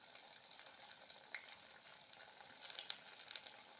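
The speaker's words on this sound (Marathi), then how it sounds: "आपल्याला मीडियम गॅसवरती ती तळून घ्यायची आहे" Bati dough frying in hot oil on a medium gas flame makes a soft, continuous sizzle with light crackles and small bursts of bubbling, close but fairly quiet.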